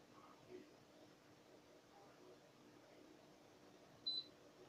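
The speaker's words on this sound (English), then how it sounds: "There you go, here's the beep sound." One short, high electronic beep from a universal air conditioner remote sounds near the end, faint and isolated over a quiet background hum.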